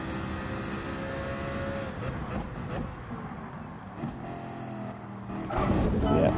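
Honda car engine racing in the video game Gran Turismo 7, a steady loud engine drone with shifting pitch and a louder surge near the end, with a brief voice.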